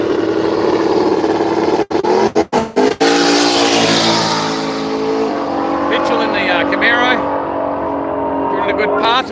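Camaro on a drag racing run at Willowbank, Australia, in a radial drag event, a loud close engine roar with brief cutouts during gear changes, then fading as the car pulls away while a commentator talks.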